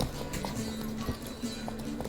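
Roach, a horse in The Witcher 3, gallops with a steady rapid clip-clop of hooves over a low steady tone, the beats close and even.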